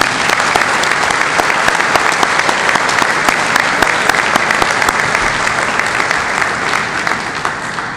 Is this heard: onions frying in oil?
no